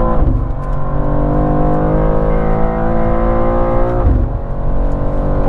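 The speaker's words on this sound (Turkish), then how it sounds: "Bu biraz daha devir dönüyor tabii." A 2023 BMW M2 G87 revs its engine, a loud, close, sustained rising drone with a brief dip and renewed climb near the end.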